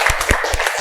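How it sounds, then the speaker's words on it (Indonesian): A brief burst of classroom applause for a student, a few sharp claps close and loud with no talk over them. "Tepuk tangan dulu buat Ade."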